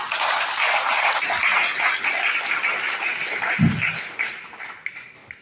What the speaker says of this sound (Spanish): También solicito un fuerte aplauso para el señor cacique regional Yucribo.